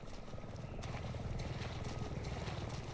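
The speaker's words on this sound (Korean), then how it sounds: "헬기다." A helicopter in the horror video game Resident Evil 7 Biohazard gives off a faint, steady rotor and engine rumble that holds at a distance for the whole stretch, with no speech over it.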